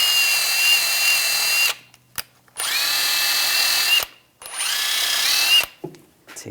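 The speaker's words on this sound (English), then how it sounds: "I'm just going to take a wire brush" A wire brush cleans rear brake caliper parts on a 2001–2006 BMW 325Xi. It comes as three loud, whining power-tool bursts with short silent gaps between them.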